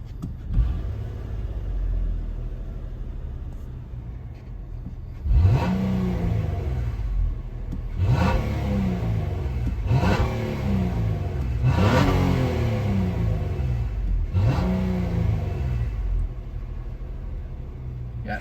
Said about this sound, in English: So here's some exhaust notes for you guys.